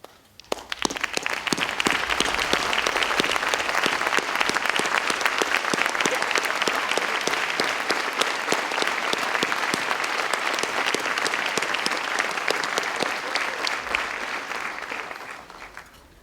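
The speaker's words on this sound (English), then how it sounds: "if everybody could stand and give these instructors an applause" Loud, sustained applause from a large crowd at a firefighter recruit graduation, many hands clapping steadily for about fifteen seconds before tapering off.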